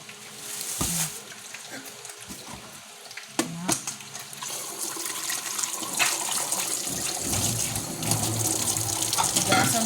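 Water pouring and splashing into a basin or tub while fish are being cleaned, a steady hissing stream that builds and grows louder toward the end, with sharp clunks and knocks early on.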